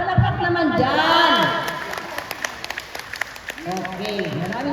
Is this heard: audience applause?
yes